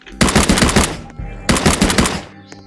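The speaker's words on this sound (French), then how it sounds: "J'ai un pistolet mitrailleur là." A submachine gun in a video game fires two rapid bursts, each about a second long, loud and close, with a short pause between them.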